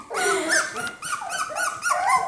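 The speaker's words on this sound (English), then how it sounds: "just figuring out how to bark" Four-week-old Cockapoo puppies bark and yip in small, high, nasal bursts, several overlapping calls close by with brief whimpery whines between them, no talking.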